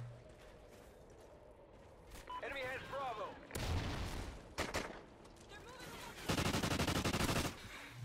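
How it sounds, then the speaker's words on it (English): MTAR assault rifle fire in Call of Duty: Ghosts during a squad match, with short loud bursts in the middle and a longer sustained rattling burst near the end, and a voice talking over quieter stretches. "let's try out the MTAR"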